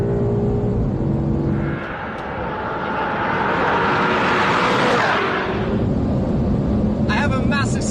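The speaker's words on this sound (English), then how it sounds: "we come around again into the start straight, unwind the steering, and away we go up to the red line" A BMW M5 safety car accelerates hard along a track's start straight toward the red line, its engine and road roar swelling loud and steady with a rising whine, under an onboard voice.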